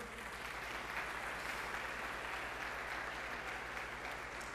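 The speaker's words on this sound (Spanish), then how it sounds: "¿Podemos dar un aplauso a estos que han pasado este curso?" A church congregation applauds people who have finished a course, a continuous wash of clapping heard at a low, distant level throughout, with a steady low hum beneath it.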